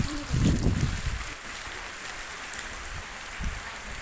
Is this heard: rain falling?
yes